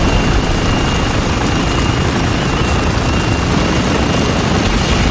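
A Little Bird helicopter's rotor in the video game Spec Ops: The Line thrums loudly and continuously, a dense, steady roar close by with no pauses.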